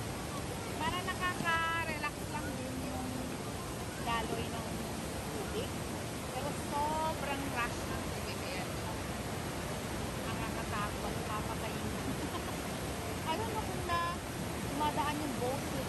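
Loud, steady roar of the Niagara River rapids beside the White Water Walk boardwalk, a dense continuous rush of churning water with people talking faintly over it.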